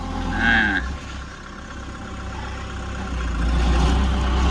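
A low, steady engine drone of a tractor running nearby in a harvested corn field, rising slightly toward the end, with a brief higher whine early on.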